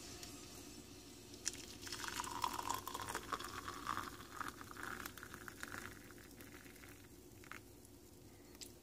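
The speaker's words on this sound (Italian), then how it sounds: "adesso poi ci mettiamo l'acqua che ho fatto appena bollire nel bollitore" Freshly boiled kettle water poured onto instant coffee in a cup makes a soft, close trickling and gurgling pour that runs for several seconds at low level.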